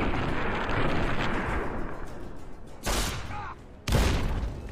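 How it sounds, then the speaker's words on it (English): Explosions in the video game Fallout: Tale of Two Wastelands: a dense, continuous rumble of blasts with two sharp, loud booms near the end, each trailing off into a hissing decay. "things are just exploding around us"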